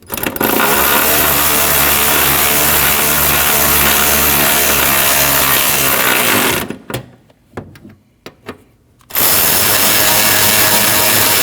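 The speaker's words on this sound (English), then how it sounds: "you need to install your 3 10mm bolts. And tighten all 3." A ratchet or tool drives three 10mm bolts where the fender meets the bumper on a 2013-2019 Ford Escape 1.5L, a loud continuous mechanical whirring, a stretch of short clicks, then whirring again.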